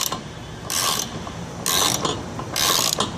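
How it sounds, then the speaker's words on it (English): Wrench or hand tool working the trailing arm bushing bolts on a 1988 Honda Civic, giving three separate bursts of metallic ratcheting and clicking with quiet gaps between them, close and fairly loud, with no talk. "we're taking off the trailing arm bushing bolts"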